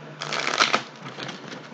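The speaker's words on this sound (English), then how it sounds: "Let me shuffle one more time." Tarot cards being shuffled in a quick riffle, a crisp rapid flutter up close that peaks briefly then trails into softer rustling.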